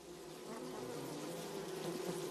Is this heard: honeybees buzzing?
yes